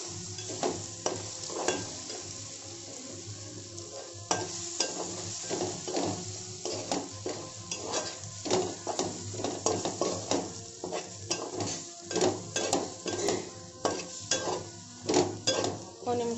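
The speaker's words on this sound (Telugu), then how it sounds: "ఒక నిమిషం పాటు వేయించుకుందాం ఇది" Spices, salt, chilli and turmeric frying in a pan for a spicy chicken fry, with a soft sizzle under repeated scraping stirs and the clink of a spoon against the metal.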